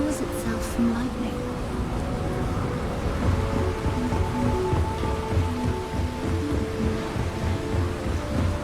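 A thunderstorm pours over a lightning-powered city in the game Starfield, with dense steady rain and low rumbling thunder filling the scene continuously and no talking.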